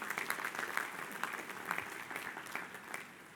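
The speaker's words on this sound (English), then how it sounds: "Let's give Dr. Smith a nice round of applause" Audience applause at a livestreamed stage event, a steady dense patter of many hands clapping at once, fairly faint and distant with no talk over it.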